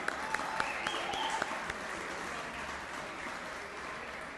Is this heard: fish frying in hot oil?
no